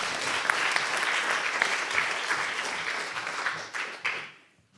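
Audience applause at a global impact forum summit, steady dense clapping from a crowd that holds for about four seconds, then tapers off and fades out at the end.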